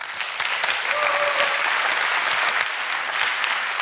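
Dense, sustained audience applause at a Korean author's talk, a steady wash of many hands clapping loudly throughout, with no voices standing out.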